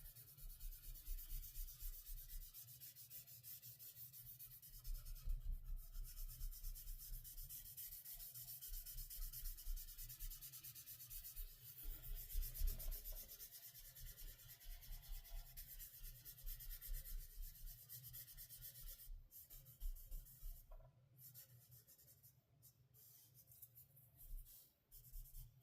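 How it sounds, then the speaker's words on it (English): Soft, steady rubbing of a paper blending stump worked in small circles over pencil shading on paper, faint and continuous with slight rhythmic swells and no talking. "like to do little circles with my stump instead of just swoopy lines"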